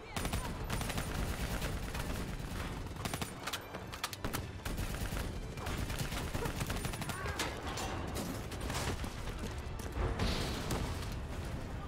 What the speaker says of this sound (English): Focus your fire on the VTOL!